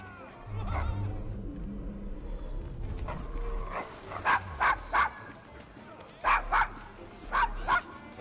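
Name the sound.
dog Desmond barking in the video game Assassin's Creed Syndicate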